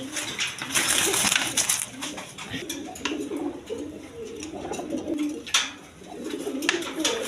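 Several Bashiraj pigeons coo steadily in low, throaty rolling calls, overlapping close by, with faint background voices and movement.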